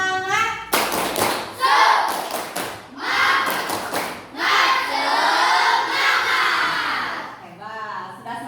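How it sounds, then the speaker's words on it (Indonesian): Children in a classroom perform a rhythmic clapping chant (tepuk semangat), with loud bursts of clapping and sharp claps alternating with shouted chanted phrases in an energetic group pattern. "kita tepuk semangat dulu"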